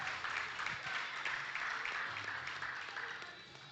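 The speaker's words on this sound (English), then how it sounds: "Big round of applause." Applause from the audience at a powerlifting championship, a steady dense wash of clapping sustained for a few seconds and easing slightly toward the end.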